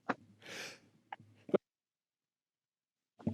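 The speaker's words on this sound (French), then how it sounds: "j'étais en train d'éternuer" A single muffled sneeze bursts out between brief breathy vocal sounds, followed by a stretch of near silence.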